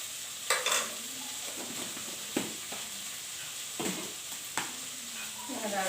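Ginger-garlic paste for a fish curry fries in a pan with a steady hiss, broken by several scraping stirs of a spoon at irregular intervals, close and moderately loud.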